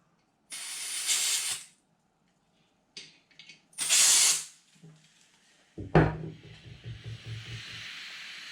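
Several sharp bursts of hissing gas come in short blasts with pauses between as gas is pumped into a leaking Tokyo Marui Hi-Capa airsoft magazine, followed by clicks and a metallic clunk with fading rattle.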